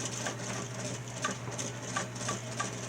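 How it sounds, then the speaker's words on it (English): A 1951 Singer model 221 sewing machine stitches slowly through eight layers of fabric with a low steady hum and soft periodic needle thumps. "Let's see if this 1951 model 221 Singer can sew through 8 layers."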